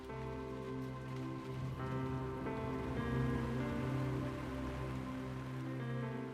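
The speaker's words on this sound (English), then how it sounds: "As rain starts to fall" Rain begins falling outdoors in a cold northern setting, a soft steady patter on surfaces, fairly quiet and even throughout, with faint tonal hum in the background and no voices.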